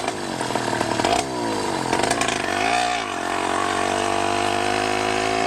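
A 100cc motorized bicycle engine with a 49mm iron sleeve drones loud and steady as the rider opens the throttle uphill, the buzzing pitch dipping and climbing with the load, and no talking over it.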